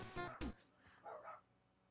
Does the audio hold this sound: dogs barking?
yes